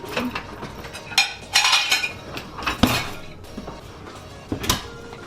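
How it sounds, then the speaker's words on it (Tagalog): Plates and dishes being handled in a home kitchen, several sharp clinks and clatters of crockery at irregular intervals, close and fairly loud, with no talking. "Saan ba yung mga plato? Nandito ata yung mga plato."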